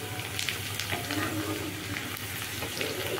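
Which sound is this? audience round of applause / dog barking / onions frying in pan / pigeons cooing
onions frying in pan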